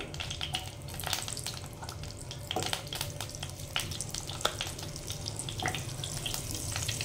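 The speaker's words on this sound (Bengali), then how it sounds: "এবার এটা একটু মেল্ট হতে সময় লাগবে, সেই সময়টুকু একটু আমি এখানে নাড়িয়ে নেব" Amul butter melting in a pan while being stirred, a continuous close sizzle with sharp scraping and tapping strokes of the spoon throughout.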